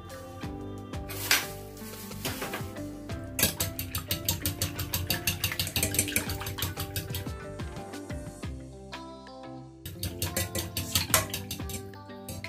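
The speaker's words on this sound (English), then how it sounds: "Keep stirring." Butter for macaroni cheese is stirred in a pan, with rapid rhythmic scraping and clinking of a utensil against the pan over a soft sizzle. The stirring comes in bursts with short pauses, close and fairly loud, and no one speaks.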